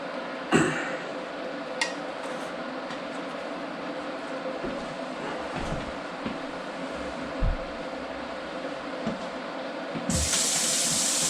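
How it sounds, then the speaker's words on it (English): Cold water runs into a homebrew fermenter in a steady pouring rush, with a few soft knocks and clunks scattered through, and the flow brightening and growing louder at the end. "I'm going to go ahead and put those 2 gallons of cold water into the fermenter"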